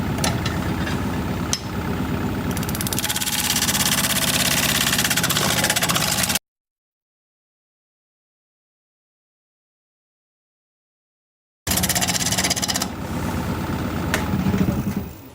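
A wood lathe spinning a root ball bowl blank at 1,000 RPM, a steady rumbling whir with an uneven, bumpy vibration, broken by a long silent gap midway before the hum resumes.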